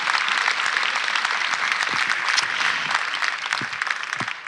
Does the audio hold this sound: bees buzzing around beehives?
no